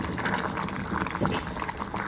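Lima bean gravy (double bean kurma) simmering in a pot, a steady close bubbling and liquid churn with soft pops throughout.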